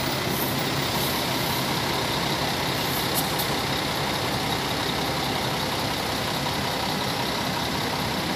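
A charter bus on the Ribeirão Preto–São Paulo highway gives a loud, steady roar of heavy engine and road noise that fills the whole stretch, with no voices.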